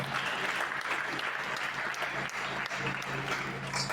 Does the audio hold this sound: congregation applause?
yes